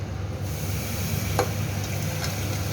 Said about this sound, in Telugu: ఇప్పుడు మనము మటన్ని దాంట్లోకి వేసేద్దాం.